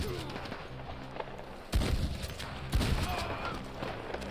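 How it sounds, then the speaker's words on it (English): Shotgun blasts in Red Dead Online, two heavy booming shots about a second apart over a steady background rumble, with no talking during the shots. "Oh my god, shotgun."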